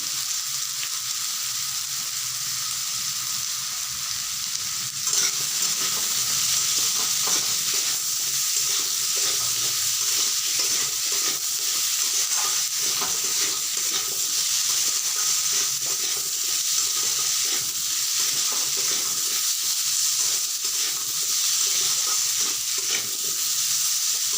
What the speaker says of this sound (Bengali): এভাবে করে কিছুক্ষণ ধরে ভাজতে হবে, তাহলে আলুগুলো ভাজা হবে,